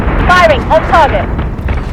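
A Manticore-class warship fires its guns in a Battlestar Galactica space combat game: two or three quick, descending sci-fi zaps over a loud, continuous rumbling explosion bed, close and brief.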